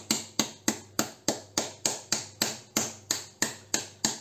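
A fruit being struck to knock its seeds out: about a dozen evenly spaced, sharp knocks in a steady rhythm, close and fairly quiet, with nothing else heard.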